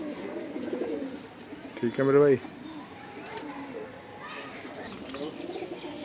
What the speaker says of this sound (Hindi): ये देखो जी कबूतर, बहुत ही सुपर क्वालिटी का कबूतर है